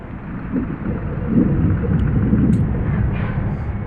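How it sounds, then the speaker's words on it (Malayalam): Heavy rain pours on a road at night, heard as a dense, muffled roar from inside a moving vehicle, with low rumbling throughout and a few faint clicks. "ഈ രാത്രിയിൽ മഴയും ഒക്കെ പിടിച്ച് പോകുന്നത് നമുക്ക് ഫുള്ള് മഴയാണ്"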